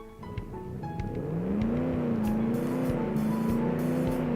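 A heavy 3,000-kilo fan-made car in BeamNG accelerating hard, engine note climbing steadily in pitch and loudness into a sustained close roar, with faint clicks early on.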